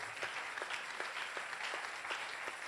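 Church congregation applauding, a fairly faint steady patter of many hands clapping in a rhythmic beat, heard from a distance.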